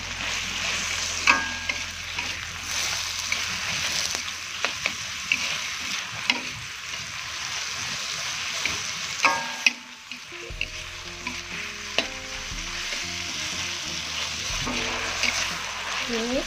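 Galangal, ginger and bay leaves fry in a pan for a green-chili tuna dish, with a continuous close sizzle broken by clattering stirs of the utensil and brief talk.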